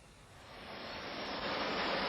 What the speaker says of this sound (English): In the first wave, French-built Mystère fighter bombers.